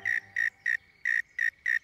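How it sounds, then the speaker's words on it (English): A cricket chirps in six regular bursts, each a short bright trill spaced evenly apart, close and clear against a quiet background with no talking. "After it, follow that cricket."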